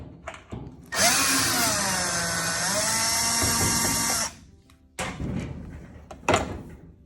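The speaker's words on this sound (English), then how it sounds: "So I'll take out a couple of Phillips head screws, one here and one here." A power screwdriver backs Phillips head screws out of a 1998 Whirlpool dryer panel, whining steadily and loudly for about three seconds and then falling silent, followed by clattering handling noises nearby.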